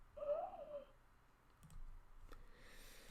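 An owl hoot sound effect from the mBlock animal sound library, heard as a single hooting call near the start that fades within a second, followed by faint clicks from the computer.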